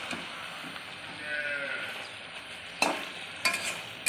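Pumpkin-stem greens curry with mung dal and fried lentil dumplings sizzles in a pan, a steady hiss under occasional sharp scrapes and knocks of a stirring spoon, growing busier toward the end.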